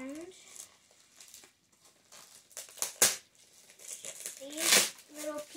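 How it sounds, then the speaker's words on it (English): Wrapping is peeled off a package with crinkling, tearing bursts of tape and paper, loudest in two sharp rips, while a person speaks intermittently over the rustling. "I've unwrapped most of it."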